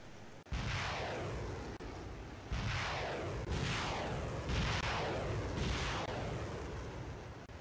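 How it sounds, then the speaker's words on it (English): The warship Piotr Veliki launches short-range surface-to-air missiles in the naval war game Naval War Arctic Circle: four loud, close launch blasts in a row, each with a sharp onset and a long hissing roar that fades before the next. "The Piotr Veliki starts firing short-range surface-to-air missiles."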